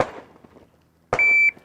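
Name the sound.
electronic beep of shot timer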